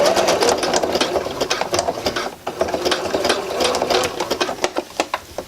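A sewing machine top stitches a refashioned sweater into a capelet, its needle running in a steady rapid mechanical rattle with brief pauses and restarts, close and fairly loud.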